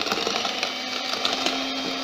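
Electric hand mixer beating cake batter for putu ayu at low speed, a steady continuous whir with a faint mechanical buzz, close and even throughout.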